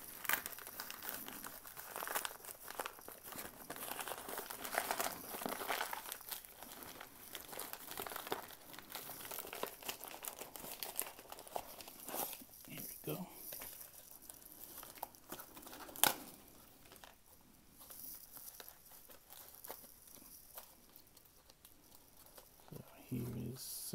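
Wrapping paper on a delivered package of sealed 1994 Skybox Emotion basketball card packs crinkles and tears in a long, dense run of rustling, close and fairly quiet, with one sharper rip partway through.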